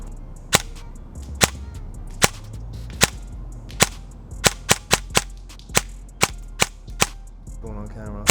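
Sharp cracks from an airsoft rifle loaded with 0.25 g BBs, fired outdoors at a distant tree. About fifteen separate shots, spaced unevenly and loud against a quiet background.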